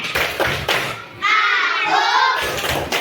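A group performs the tepuk anak soleh clapping chant, with bursts of rhythmic hand claps at the start and end around a stretch of chanted, sung voices.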